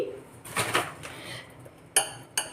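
Banana flower is mixed with egg in a bowl, giving soft wet stirring and scraping followed by two sharp clinks of a utensil against the bowl, close and fairly quiet.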